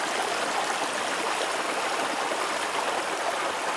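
A spring-fed mountain stream on a winter hike by Watauga Lake, Tennessee, pours over rocks in a steady, loud, unbroken rush of water with no voices.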